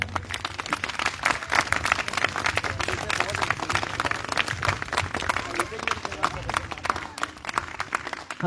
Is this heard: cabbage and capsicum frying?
no